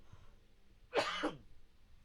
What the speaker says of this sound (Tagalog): hanggang ngayon inuubo pa ako dahil sa trangkaso ko